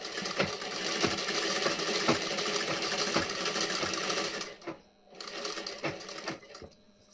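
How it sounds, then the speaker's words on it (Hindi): Sewing machine stitching a blouse, a continuous close whirring rattle with rhythmic needle thumps that stops briefly, then restarts for a shorter run. "उसके बाद टक्स वाला जो हमारा निशान लगा है वहाँ पे मैं सिलाई लगाऊंगी।"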